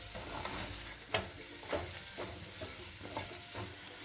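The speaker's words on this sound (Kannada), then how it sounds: "ಚಾಟ್ ಮಸಾಲ, ಉಪ್ಪು, ಚಿಲ್ಲಿ ಪೌಡ್ರು, ಧನಿಯಾ ಪುಡಿ ಸ್ವಲ್ಪ ಮಿಕ್ಸ್ ಮಾಡ್ಕೋಬೇಕು" Mashed potato is stirred in a bowl with chaat masala, salt, chilli powder and coriander powder for a crispy bread snack, making soft scraping and mixing strokes at an uneven rhythm, close and fairly quiet, with no voices.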